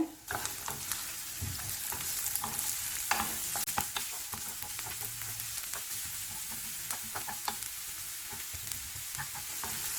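Onion and curry leaves temper in hot oil in a pan for stuffed masala idli, giving a steady low sizzle and frying crackle with scattered sharp pops and occasional stirring scrapes, close and fairly quiet.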